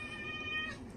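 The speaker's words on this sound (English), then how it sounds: "That's my cat. Sorry, he's hungry." A hungry cat meows indoors, a single drawn-out, fairly faint call with a tonal, whiny quality lasting most of a second, with no talking over it.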